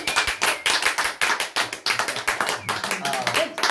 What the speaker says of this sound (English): Can we once again give this young lady a round of applause?